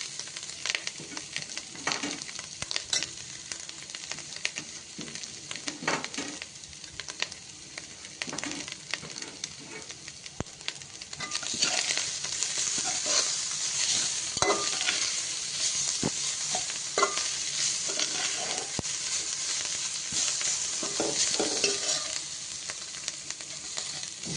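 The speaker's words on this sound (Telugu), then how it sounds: "మామిడికాయ తురుముకున్నాను, ఇది కూడా వేసేస్తున్నాను" Grated raw mango sizzles and fries in a pan for a Godavari-style raw mango curry, a soft continuous crackle broken by repeated scraping stirs, the frying growing louder partway through, with no voices.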